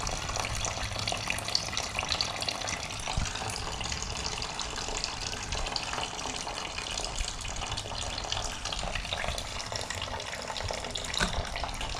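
Steady splashing flow of coolant draining from a KTM 390 motorcycle radiator into a container, continuous and close, with no voices.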